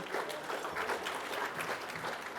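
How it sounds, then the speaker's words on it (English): Audience applause at an awards ceremony, a steady dense wash of many hands clapping at moderate level throughout, with no talk over it. "Let's give them a round of applause."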